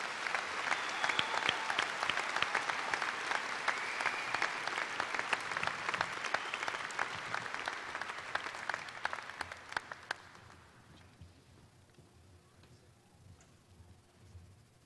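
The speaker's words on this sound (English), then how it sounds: "Let's give these students a well-deserved round of applause" A graduation crowd at Seaman's 2018 ceremony gives the graduating students a long, steady round of applause, dense clapping that fades out after about ten seconds into quiet room noise.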